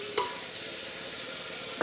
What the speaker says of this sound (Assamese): ভালদৰে ভাজি ল'ব লাগে মাংসখিনি